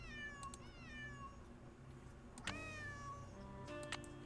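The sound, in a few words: cat meowing in Nancy Drew video game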